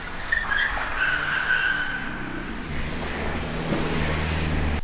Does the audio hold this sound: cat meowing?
no